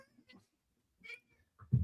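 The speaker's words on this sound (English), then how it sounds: "It's a cat." A house cat gives a couple of faint, short meows in a quiet room, ending with a louder low thump.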